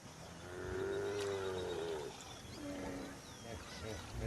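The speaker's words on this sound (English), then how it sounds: "A buffalo calls in distress." A buffalo stuck in a muddy riverbank calls in distress with drawn-out, wavering bellows at moderate distance, over a background of outdoor noise.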